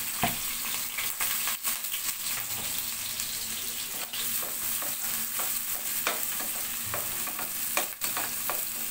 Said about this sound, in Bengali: তেলের সাথে পেঁয়াজটা নেড়ে চেড়ে হালকা ব্রাউন করে নিব।